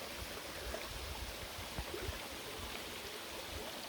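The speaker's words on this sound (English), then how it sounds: "There's a little waterfall coming down that we'll be chasing for a while." Steady rushing water of a small waterfall and creek in the Adirondack High Peaks, a constant, even splash with no voices.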